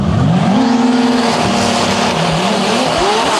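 Drag racing cars accelerating hard down the track at a drag racing world cup event, loud engines roaring with rising and shifting pitch and a brief tire squeal, close and dominant with no talk.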